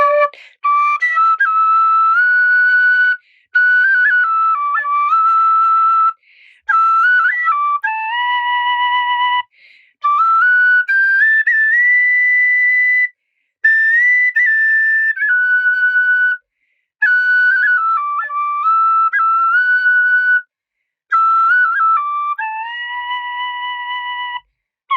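A tin whistle plays a slow, sustained rendition of a song, its bright, pure tone carrying long held notes with brief breath pauses between phrases, loud and close, with reverb and no voices.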